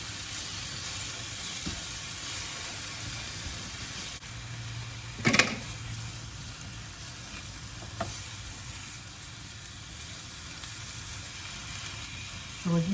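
Onions and flour fry in a small pan with a steady, close hissing sizzle, a few louder spattering bursts breaking through at moments.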